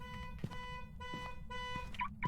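A car alarm in the video game Phasmophobia blares continuously with steady electronic tones and periodic warbling shifts, loud and close, looping over a faint background.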